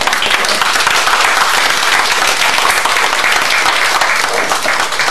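Loud, dense applause fills a dinner-show hall as guests are introduced, a large audience clapping continuously and evenly from start to finish.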